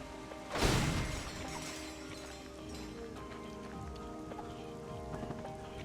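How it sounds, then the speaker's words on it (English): Rain ambience in the video game Ratchet & Clank Future: Tools of Destruction at a festival fairground, a soft steady patter of rain with a brief louder burst near the start and low tonal hum underneath. "I love the melancholy, like, rain atmosphere."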